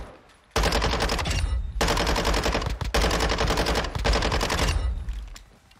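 Icarus 5.56 assault rifle in a video game firing three long automatic bursts, loud and close, with short gaps between them and no talking.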